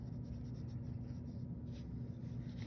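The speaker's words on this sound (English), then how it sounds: "I'm going to start taking my white charcoal pencil and I'm going to add a little bit of white in" A white charcoal pencil scratches softly against paper in quick short strokes while drawing an eye, heard close and faint over a steady low hum, with no speech.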